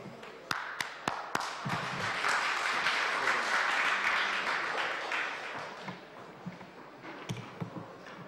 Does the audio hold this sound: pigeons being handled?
no